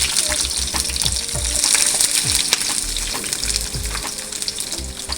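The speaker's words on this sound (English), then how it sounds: "Okay, so onions on the fire, oil on the fire." Onions frying in oil on a stove for chicken curry sauce, a loud continuous crackling sizzle with bursts of stirring, clattering and watery splashes throughout, and no voices.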